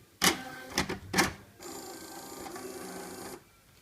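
Neopost IS240 or IS280 franking machine preparing a new ink cartridge: three sharp mechanical clacks, then a quiet steady motorized whirr that runs for about two seconds before stopping.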